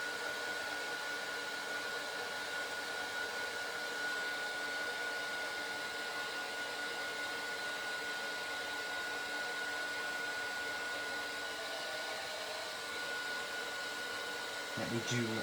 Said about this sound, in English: just give it a bit of a blast with your heat tool and that will fix it